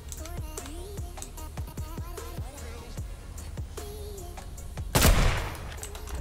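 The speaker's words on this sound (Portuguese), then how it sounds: "Tiro." Rapid bursts of gunshots from a Fortnite squad match ring out in a quick irregular series, with a louder, denser blast near the end and no talk over them.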